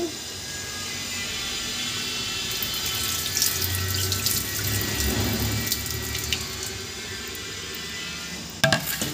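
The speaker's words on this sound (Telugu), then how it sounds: "శుభ్రంగా కడిగి నీళ్ళు వంపేసుకోండి" Sago is washed in water and drained, with a steady running-water wash, sloshing and trickling in a bowl, then a few clinks of a utensil near the end, close and unaccompanied by speech.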